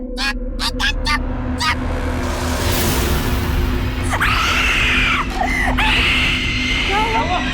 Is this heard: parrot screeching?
yes